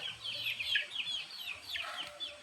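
Chickens clucking in a backyard flock waiting to be fed, repeated short calls close by and fairly loud, with a low rumble of background noise underneath.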